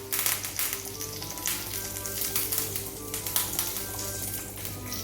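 Curry leaves crackle and sizzle in hot oil with methi seeds for a tempering, a steady close frying hiss with small spitting pops throughout.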